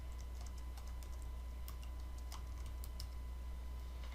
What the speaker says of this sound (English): you can simply type the name into the box below